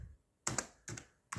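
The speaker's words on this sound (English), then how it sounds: "I'm gonna type a quick little program." Three short bursts of clicking keystrokes on a computer keyboard while a small program is typed, each cluster of crisp taps separated by brief quiet pauses, close and clear.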